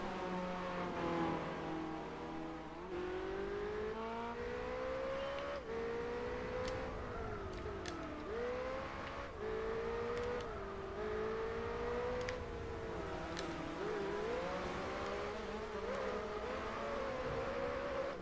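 A DTM V8 race car engine in Gran Turismo 4 revs continuously, its pitch rising and falling through repeated gear changes and throttle lifts, with a steady, moderately distant drone and no talking.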